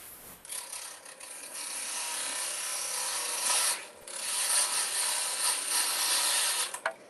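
A parting tool scrapes into spinning wood on a lathe while a yoyo is turned. It gives a close, continuous raspy cutting noise with a short pause midway, then resumes.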